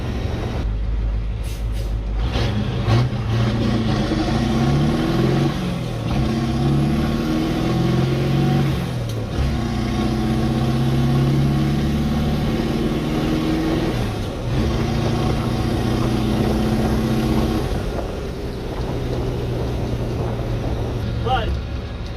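A classic medium duty truck with a CAT V8 diesel pulling hard through the RPM range during quarter-mile testing: steady loud droning engine note rising in pitch through several gear changes, heard close up from the cab.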